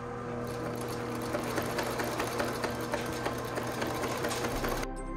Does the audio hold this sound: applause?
no